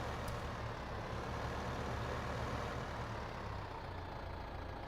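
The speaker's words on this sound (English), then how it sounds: "I just happened to hop in this tractor." A tractor in Farming Simulator 15 drones steadily while pulling a small cultivator across a field, a constant broadband engine rumble with no breaks and no talking.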